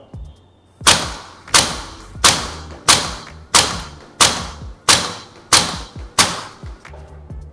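Eight sharp, evenly spaced shots from a Maruyama ISO556 airsoft rifle firing 0.2 gram BBs at an outdoor 30-meter range, each a crisp snapping crack with a short decay, loud and close with no talk.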